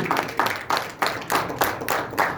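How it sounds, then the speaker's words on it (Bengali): An audience at a presentation event in a hall claps in rhythmic bursts, several strong pulses in quick succession, close and fairly loud. "এটা সকলের জন্য জোরে হাততালি।"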